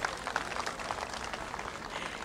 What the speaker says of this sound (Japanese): 歓声が上がっていますね。